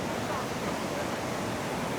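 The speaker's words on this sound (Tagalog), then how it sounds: "kasi ang ingay ng tubig" Brandywine Falls waterfall roars with a constant broadband rush of falling water, loud and close, unbroken for the whole moment with no voices over it.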